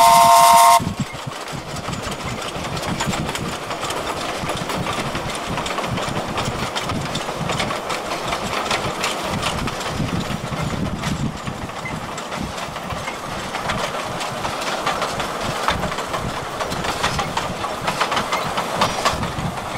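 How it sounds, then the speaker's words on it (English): A narrow gauge steam train chuffs along the Gulbene to Aluksne railway with a steady beat, a continuous loud mechanical rumble and clatter with no talk. "Ferdinand's chuffs on towards Aluksne, with a little train with a steady beat."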